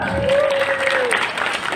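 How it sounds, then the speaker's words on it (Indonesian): Audience applause at an Indonesian Islamic talk, a steady wash of clapping that runs the whole moment with a loud tonal whistle-like squeal sliding through it and crowd noise underneath. "Mantap, tepuk tangan."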